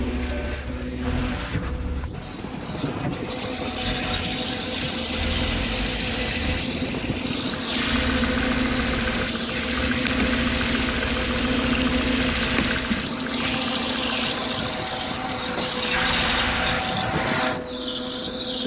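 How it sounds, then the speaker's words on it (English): A Porsche Cayenne S, jump-started and running without a radiator, idles steadily with a low, even hum and faint mechanical ticking, with no voices over it. "Engine doesn't sound perfect, so that's probably just running without a radiator."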